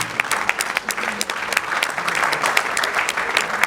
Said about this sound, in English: Please, a special round of applause for all the women.